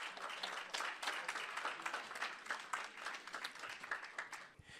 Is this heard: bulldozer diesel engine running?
no